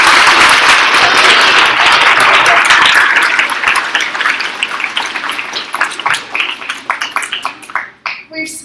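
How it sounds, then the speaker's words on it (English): Fifth grade students applaud in a room, a dense burst of loud clapping that thins out into scattered claps and fades, with voices mixed in toward the end. "I think you need to give yourself a round of applause."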